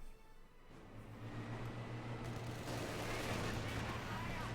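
MG42 machine gun fire rattles in a Company of Heroes 2 battle, a dense continuous burst of rapid shots that swells louder over a low rumbling din.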